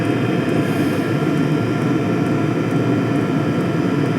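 A cheap diesel night heater runs with a steady, loud, droning combustion roar and fan hum, unchanging throughout with no speech.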